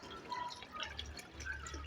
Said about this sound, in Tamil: தண்ணி வந்துட்டுருக்குது.